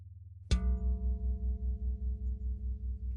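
A single bell struck once, with a sharp, bright attack and a clear resonant ring that sustains steadily for a few seconds over a low pulsing hum; no voice.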